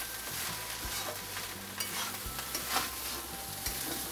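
Leftover rice being stir-fried in a pan with coriander makes a soft, continuous sizzle over scraping and stirring, close and fairly quiet, with occasional light knocks of the spoon against the pan.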